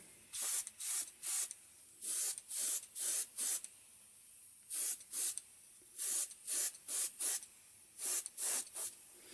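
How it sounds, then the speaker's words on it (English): Short bursts of an airbrush spraying silver paint onto a threadfin shad–pattern fishing lure, repeated hissy passes in quick groups of two or three with brief pauses, close and alone. "So we'll just go through and start spraying some silver here."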